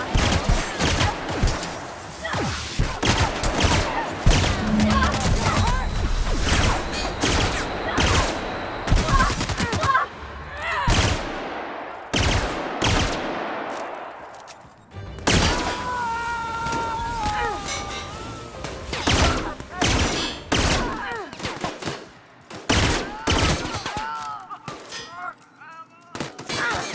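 A chaotic shootout in The Outer Worlds: dense gunfire volleys and impacts with shouting voices mixed in, loud and close, easing into scattered shots and background noise toward the end.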